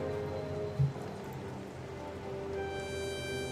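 Steady rain patters in a scene of the Chicken Police video game, a soft even wash of falling drops under faint sustained background music tones.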